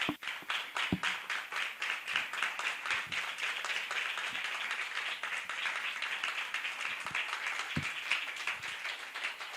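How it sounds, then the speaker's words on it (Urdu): An audience at a church gathering applauds to welcome a guest speaker, a sustained, dense round of many hands clapping together at an even level for the whole stretch. "آپ کی بھرپور تالیوں میں وہ آئیں"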